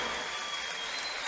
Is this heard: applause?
yes